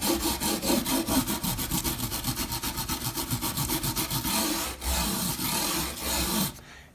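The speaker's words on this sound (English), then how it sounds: "when you hit it with the brass bristle brush, it tends to burnish it" A brass bristle brush scrubs the wooden fretboard of a vintage 1983 Yamaha SA800 guitar in rapid, rhythmic back-and-forth strokes, a raspy close-up scratching that pauses briefly near the end.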